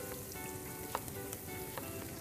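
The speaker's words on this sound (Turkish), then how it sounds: "mantarlarımızı kavuracağız" Mushrooms and a small diced tomato sizzle steadily as they sauté in a pan for a Turkish mushroom-sauce pasta, a constant close frying hiss with faint stirring clicks and no talk.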